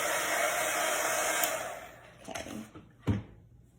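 A hair dryer blows steadily on freshly applied chalk paint on beach decor, a loud airy whir that cuts off partway through, followed by a few soft knocks and handling sounds.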